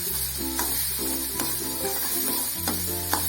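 Grated coconut being stirred into chickpea sundal in a pan: a steady close sizzle with soft scraping stirs, under a faint tonal hum from the background.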